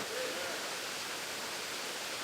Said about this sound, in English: As a light rain begins to fall